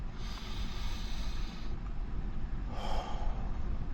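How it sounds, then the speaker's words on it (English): Slow deep breathing during a calm breathing pause, with a long loud breath followed by a shorter second breath, close and alone without speech. "let's take a little second to breathe."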